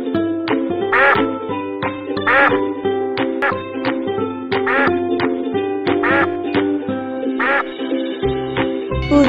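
A duck quacks in repeated bursts of several harsh calls, loud and close, over a steady musical background with no talking.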